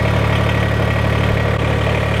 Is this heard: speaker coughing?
no